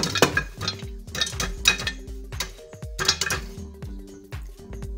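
Caramel popcorn cooks in a covered pot as it is shaken, producing repeated bursts of metallic clattering and rattling in rough rhythmic waves, loud and close, with a ringing metal tone between shakes.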